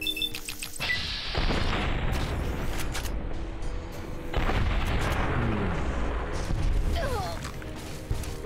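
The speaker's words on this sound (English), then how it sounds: "Hit me with a fucking flare gun." Flare gun fired at the player in Fallout: New Vegas, Lonesome Road: loud booming shot impacts with crashing, rumbling debris over a dense, continuous battle din, with a few sharp hits through the clip.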